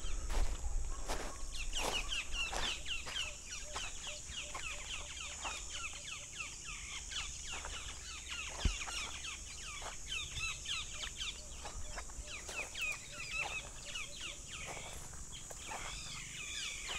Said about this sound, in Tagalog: Ganda ng mga ibon na yun, ah.